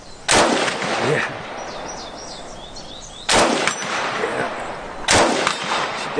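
Three loud, close gunshots from a Chinese Type 97 FTU rifle, fired singly at uneven intervals a couple of seconds apart, each with a sharp crack followed by a ringing outdoor echo.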